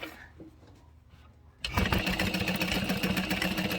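A sewing machine backstitching fabric starts abruptly after a quiet moment and then runs as a loud, steady mechanical whir close by.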